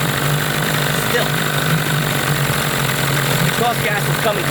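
A 1998 Johnson 15 hp outboard engine with an overheating problem, idling with a steady, loud, rough mechanical drone and continuous vibration, close by.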